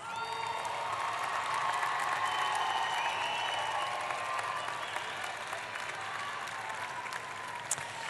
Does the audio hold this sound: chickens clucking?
no